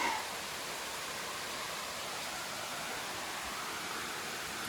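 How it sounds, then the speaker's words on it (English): A small waterfall spilling into a little pool on a rainy farm in Sasaima, Colombia, gives a steady, broad rushing hiss that stays even and close throughout. "have access to this little waterfall and a little pool here"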